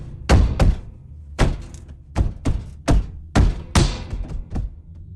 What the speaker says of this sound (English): This was followed by the sound of something heavy slamming into the door itself.